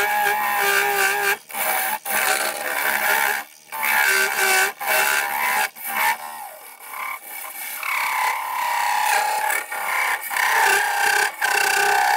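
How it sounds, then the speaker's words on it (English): Repeated rough rasping of sandpaper on a wooden cup spinning on a lathe, a continuous scratchy whir broken by short pauses, close and fairly loud. "let me get some sanding done"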